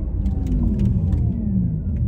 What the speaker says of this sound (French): j'en profite pour tester un coup les freins en céramique